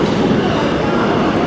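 A New York subway train pulls out of the station with a steady, loud rumbling whoosh that holds level through the short stretch.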